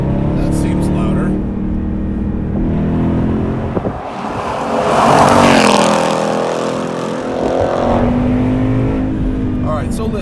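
A supercharged V8 in a 2019 Roush Stage 3 Mustang with adaptive exhaust hums at idle, then swells into a loud, rough rev before settling back, heard from inside the car with someone talking over it.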